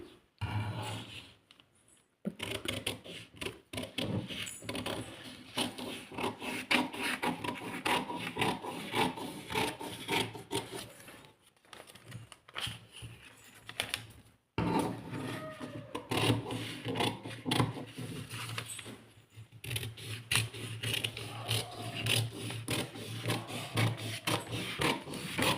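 Scissors cut through a blouse paper pattern in a tailoring class, making a long run of rough, rasping snips and paper rustles close by, broken by a few short pauses, with no talking.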